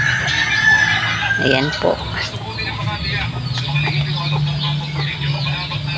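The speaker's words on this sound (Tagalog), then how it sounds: "may alaga din po kami mga manok" Chickens cluck and a rooster crows nearby amid general outdoor farmyard noise, with a person speaking briefly.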